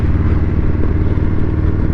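A motorcycle ridden along a road, its engine rumbling loud and close in a steady low drone with wind noise, continuous throughout.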